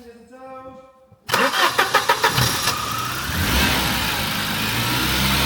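A car's engine cranks with a quick series of rhythmic turnovers, catches and then runs on, rising to a steady, raised rev after a newly fitted alternator; a voice speaks briefly before the start.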